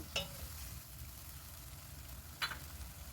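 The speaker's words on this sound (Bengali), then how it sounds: "এখন একটু ভালো করে আবারও নাড়িয়ে নেব" A utensil stirs spices in a pan on a gas stove over a medium flame, producing two brief scraping strokes over a low, steady cooking hum.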